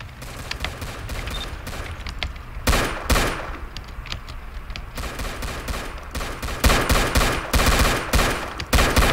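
Gunfire in a police roleplay video game, dense rapid volleys of automatic shots crackling in bursts and overlapping, steady and loud throughout with no talking.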